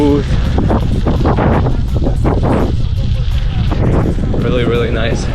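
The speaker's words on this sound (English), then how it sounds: "A bit windy, headwind" Wind buffeting the microphone during a gravel bike ride near Girona against a headwind, a loud constant rumble with a voice talking over it.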